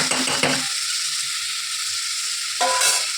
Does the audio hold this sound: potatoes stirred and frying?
yes